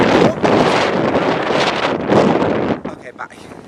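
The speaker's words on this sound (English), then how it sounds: "Oh, it's a little windy though, a little rainy." Strong gusting wind during Hurricane Sandy roars and buffets the microphone in loud, continuous blasts, easing slightly near the end as voices talk over it.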